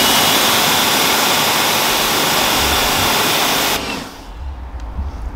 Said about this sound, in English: Let's give that a rinse before I put it in the bucket.